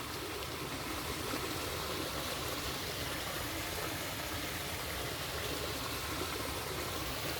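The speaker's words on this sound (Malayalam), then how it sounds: "കണ്ടോ, മുതുകുളം തോടാണ്." A full canal at Muthukulam flows beside a roadside, making a continuous broad rushing wash that holds steady and fairly loud throughout, with no voices over it.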